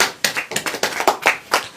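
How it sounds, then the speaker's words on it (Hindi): Audience applause at a church sermon, a burst of hand claps with uneven rhythm, moderately loud and close, with no talking over it. "तालियां बजेगी कि नहीं"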